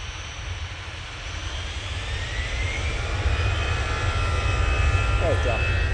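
An EasyJet jet airliner at Manchester Airport roars with a broad, steadily building engine rumble that grows louder over several seconds, with a faint voice briefly audible near the end.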